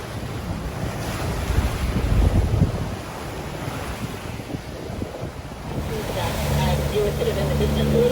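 Wind roaring and waves rushing past a sailboat motor-sailing at sea in light wind, a loud continuous wash with gusty buffeting on the microphone and a faint engine hum appearing toward the end.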